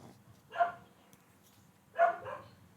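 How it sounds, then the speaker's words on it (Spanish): Two distinct dog barks ring out a little over a second apart, the second followed by a softer yelp, set against a very quiet background. "Tengo los perros aquí activados ahora."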